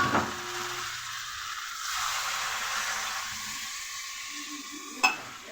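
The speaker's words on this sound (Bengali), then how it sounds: "বন্ধুরা, এবার জল দিয়ে দিই।" Water poured into a pan of frying jackfruit and potatoes in oil, the sizzle swelling into a loud hissing rush that fades, then a sharp clank of the pan near the end, no voices.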